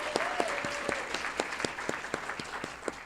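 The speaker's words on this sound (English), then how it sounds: "Please, big round of applause for them." Audience applause for event hosts and support staff, a modest round of clapping at a steady pace with individual claps standing out, heard alone at moderate level.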